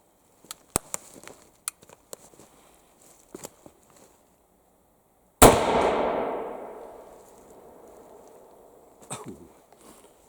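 A single loud blast from an antique 10 gauge William Lawrence shotgun booms nearby and rolls off over a few seconds, with scattered clicks and handling noises before it and a little clatter afterwards.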